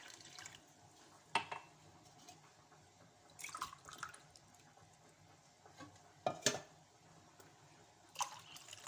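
Warm water poured glass by glass into a mixing bowl for semolina pancake batter, giving short splashing pours separated by quiet gaps, close and fairly soft, with no talk.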